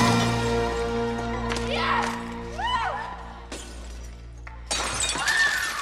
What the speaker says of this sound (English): More glass breaking elsewhere?